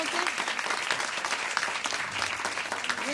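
An audience applauds graduates from Languedoc-Roussillon receiving their diplomas, with sustained, dense clapping from a large crowd and faint voices underneath.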